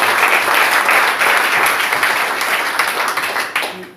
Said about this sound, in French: Applaudissons d'abord pour le Seigneur.